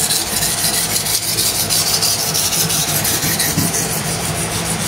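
A Victorinox factory knife blade held against a powered corundum stone, grade 1000/6000, gives a continuous close abrasive rubbing and grinding hiss over a low motor hum, steady throughout with no talking.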